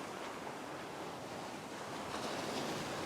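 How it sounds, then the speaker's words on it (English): Ocean surf breaking and washing up a beach near a reef, a steady broadband roar that swells slightly toward the end, with wind buffeting the microphone and no voices. "Just let this wave pass."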